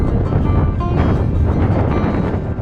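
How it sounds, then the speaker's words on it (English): Strong wind buffets the microphone on a mountain backpacking trail in Banff, a loud, continuous low roar and rumble with no voices. "The wind has picked up quite a bit"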